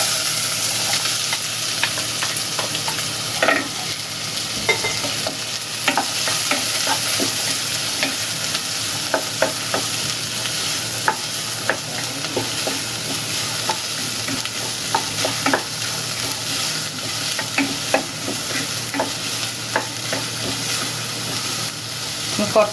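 Chopped onions with salt sautéing in a pan, a steady close sizzle with frequent scraping stirs throughout, loud and continuous.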